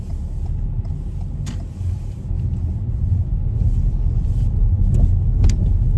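Road rumble from a car pulling out on a driving test route in Raheny fills the cabin, a steady low drone that builds slightly as it accelerates.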